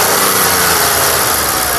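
A 2010 Volkswagen Polo's 1.2 litre petrol engine idles in a steady, close, loud hum with a faint, even, rapid mechanical patter and no voices.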